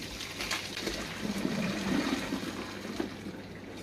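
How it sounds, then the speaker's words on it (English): Hot water is poured off cooked noodles, a steady gushing splash that runs for a few seconds at moderate level, with no talking. "Toss the original water out."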